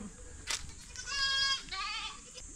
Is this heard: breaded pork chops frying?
no